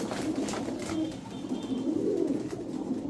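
Pigeons cooing close by among racer and fancy breeds, soft repeated throaty coos over a quiet background.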